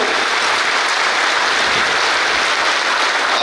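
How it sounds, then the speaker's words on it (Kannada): A large crowd at a Vishva Hindu Parishad gathering claps hard and continuously, a dense, loud, unbroken wash of applause from start to finish with no speech over it. "ಒಕ್ಕೊರಲಿನಿಂದ ನಾವೇ ಒಂದು ಜೋರಾದ ಕೈ ಚಪ್ಪಾಳೆ ಮೂಲಕ ವಿಶ್ವ ಹಿಂದೂ ಪರಿಷತ್ತಿಗೆ ನಾವು"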